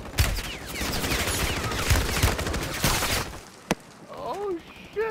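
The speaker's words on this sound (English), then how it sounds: "There's a guy shooting from your left, right hand side." Rapid bursts of automatic gunfire rattle continuously during a Call of Duty match, with a sharp single report near the end and players talking over the shooting.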